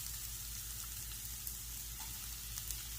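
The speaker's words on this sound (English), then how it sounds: "I'm going to add in the onions and peppers and cook them" Onions and peppers fry in oil in a pan alongside sausage, giving a faint, steady, even sizzle with a few soft crackles.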